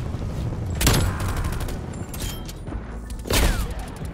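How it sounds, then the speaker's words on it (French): Enemy artillery fire in the video game Black Ops Cold War, two heavy booming blasts a couple of seconds apart over a steady game rumble, with faint scattered sounds between. "Aïe, l'artillerie ennemie!"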